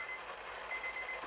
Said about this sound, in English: we want to set the timer for 1 minute exactly